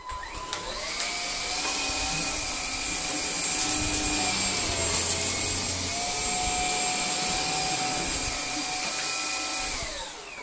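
A cordless vacuum cleaner runs steadily on a rug with a Gtech Air Ram Mk2 head, a continuous whining motor hum with high harmonic tones that shift slightly in pitch as it moves, close and loud throughout with no talk.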